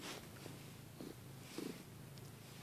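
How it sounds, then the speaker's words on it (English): A cat purrs softly and faintly in a steady low rumble, heard close and alone with no talking. "She's purring, so I guess she likes the idea."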